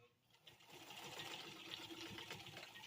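A sewing machine runs steadily through heavy canopy fabric, a continuous close mechanical whir with a dense stitching texture that holds for nearly three seconds.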